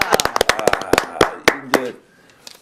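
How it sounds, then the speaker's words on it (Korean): Studio audience clapping on a live Korean evening broadcast, a quick run of sharp, close handclaps in an uneven burst that thins out and stops, with voices mixed in. "박수 소리가요 확 나니까"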